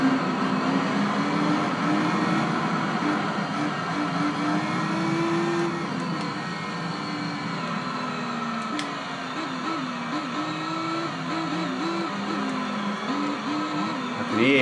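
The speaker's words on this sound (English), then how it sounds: "Hear other cars behind me." Engines of rival race cars trailing the player in Gran Turismo 3 on PlayStation 2: a continuous, fairly loud engine drone with shifting, wavering pitch as revs rise and fall, heard alone without talk.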